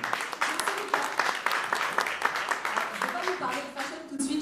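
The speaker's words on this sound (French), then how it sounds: "Je vous demande d'applaudir Florence Roussel." Applause rises from the audience at a Disneyland Paris press conference, a dense, moderately loud run of many hands clapping with a few distinct sharp claps, continuing evenly for several seconds.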